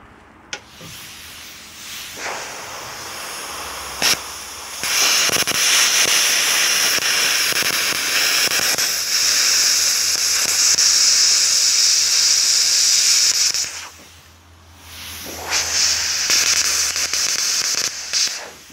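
A plasma cutter running at 40 amps slices through a metal piece, giving a loud, steady hissing roar of air and arc that holds for several seconds, stops briefly, then starts up again.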